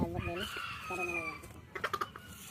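A gamecock crows once nearby, a loud drawn-out call, followed by a few short clucks against a faint background.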